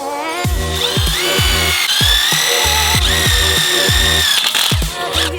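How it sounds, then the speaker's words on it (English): A power drill with a Milwaukee bit whines loudly and continuously, its pitch dipping repeatedly as the bit bites and grinds through metal, close up, during a Ford Bronco lift install. "and then we're gonna drill this out."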